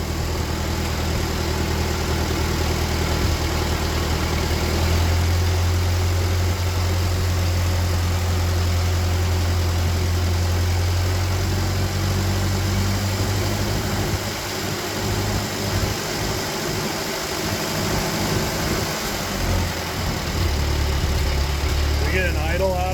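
An old Ford tractor that sat out in the rain for years runs with a steady, rough engine drone. The idle wavers and dips partway through, and a person talks over the engine noise.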